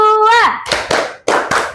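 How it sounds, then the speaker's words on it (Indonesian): In a classroom lesson, a voice sings a drawn-out cue, then children clap together in a few sharp, separate bursts, close and loud, with short pauses between claps. "Oke, tepuk tangan untuk kita semuanya."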